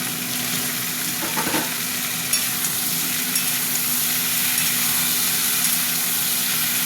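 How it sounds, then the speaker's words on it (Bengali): Chopped tomatoes fry with potatoes and peas in a wok, a constant loud sizzle with a few scraping stirs near the start and no talking. "টমেটো দিয়েও ভাজবো"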